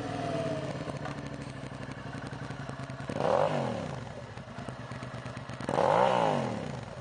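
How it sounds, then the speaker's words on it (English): A 2004 Suzuki SV650 V-twin middleweight standard motorcycle with an aftermarket exhaust pipe idles with a loping, uneven throb, then is blipped twice into short, loud revs that rise and fall back to idle. "2004 Suzuki SV650. Check out this pipe."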